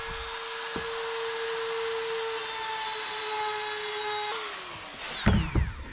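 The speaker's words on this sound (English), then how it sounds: "this will start with a little bit of a plunge route and then turn it into the box." A router plunge-cutting through a jig whines loudly and steadily for several seconds, then spins down with a falling pitch, followed by a couple of brief knocks.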